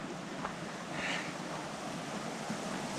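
Continuous whooshing flow of stream water at a trail crossing, even and unbroken, heard alone up close.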